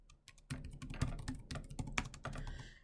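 Typing on a computer keyboard, close and quiet, with a quick irregular run of crisp key clicks and a few brief pauses.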